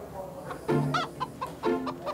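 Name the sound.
chicken clucking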